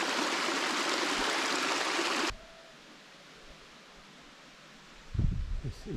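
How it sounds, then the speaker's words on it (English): Water running through irrigation channels carved into rock above the Batad rice terraces, a soft, steady trickling hiss, louder at first and then quieter, with brief rustling near the end. "Here we can see the irrigation channels that will have been carved into these rocks for thousands of years that feed down below to the rice terraces."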